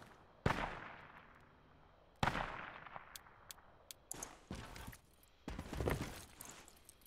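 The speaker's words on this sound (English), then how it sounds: "I keep on hearing like single shots coming from southwest." Single gunshots crack out irregularly in the military shooter game Project Reality, several sharp reports with decaying echoes at mid distance, spaced a second or two apart.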